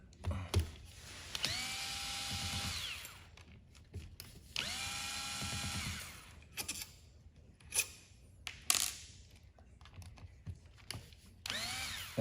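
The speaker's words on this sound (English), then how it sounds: "we're going to loosen 6 screws." Screws on an FX Impact air rifle being loosened with a power driver, giving two sustained whirring runs of about a second and a half each, followed by scattered clicks and metallic handling noises close by.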